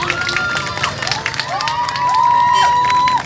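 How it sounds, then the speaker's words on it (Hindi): Crowd at a stage quiz event cheering and shouting with children's voices, lively overlapping calls and whistling tones over a dense background of clapping. "तालियां बजा दीजिए।"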